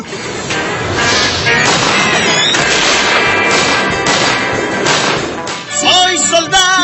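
Gunshot sound effects in a radio comedy sketch crack out as a rapid series of loud bangs over a busy background, and a voice is heard near the end.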